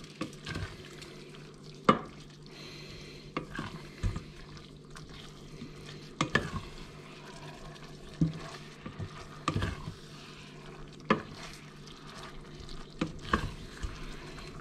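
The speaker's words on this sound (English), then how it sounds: "I'm then going to stir this all in." Butter being stirred into a red wine pasta sauce with walnuts, the pan giving soft wet swishes and periodic sharp scrapes and knocks of the utensil over a faint simmer, close by, no talk.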